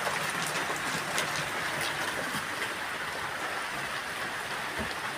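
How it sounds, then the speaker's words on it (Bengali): Steady rain falls on a rural village, a dense continuous hiss of drops on surfaces with a constant level and no speech. "যাই ভালো বৃষ্টি হচ্ছে"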